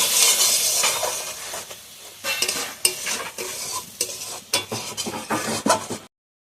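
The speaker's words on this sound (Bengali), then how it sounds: "দিয়ে আমি মশলাটা ভালোভাবে কষিয়ে নেবো" A spice paste with cumin powder and a splash of water fries and sizzles in a pan while a utensil scrapes and stirs it in repeated bursts. The sizzle is loud and close, with clinks of metal, and the clip ends abruptly.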